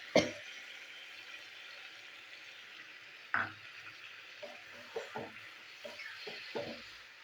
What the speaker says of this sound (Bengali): কচুটা এবার নাড়াচাড়া করবো মশলার মধ্যে।